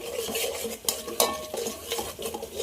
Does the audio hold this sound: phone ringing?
no